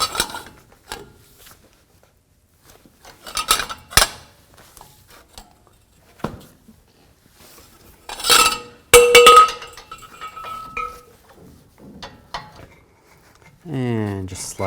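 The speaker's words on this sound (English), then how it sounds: "take a 21mm socket and take these caliper bolts out" Metallic clinks and clanks as a 21mm socket removes caliper bracket bolts from the front brakes of a 2009–18 Ram 1500, sparse taps and scrapes with brief ratchet bursts, near and moderately loud, with someone talking at the end.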